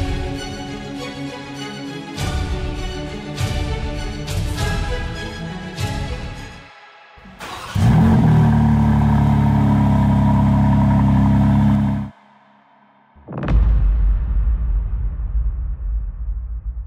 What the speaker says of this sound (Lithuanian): leidžiam mašiną ir bandam žiūrėti